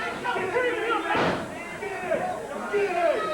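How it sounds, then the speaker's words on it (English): A wrestler slams down onto the ring mat from a double backdrop during a televised pro-wrestling match, making one heavy thud under the commentator's continuous play-by-play and a noisy arena crowd. "Big double backdrop, and Christopher's loving it."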